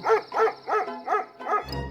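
A dog in an Aesop fable about a donkey and a dog barks five times in an even rhythm, fairly close and clear, with no talk over it.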